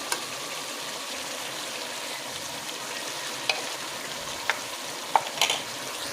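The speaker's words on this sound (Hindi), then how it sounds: "एक से 2 मिनट तक हम इसे अच्छे से भूनते हैं।" Chicken kadai masala sautéing in a pan gives a steady, close, bright sizzle throughout, with a few sharp clicks of a spoon stirring near the end.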